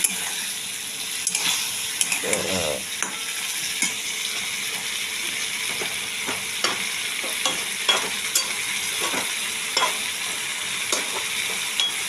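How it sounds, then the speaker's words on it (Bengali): Soybean kofta curry masala frying on full flame, a steady sizzle under repeated scraping strokes of a spatula stirring against the pan, close and moderately loud. "ফুল আঁচ দিয়ে দিয়েছি ফুল ফ্লেমে এর মশলাটা কষিয়ে নেব"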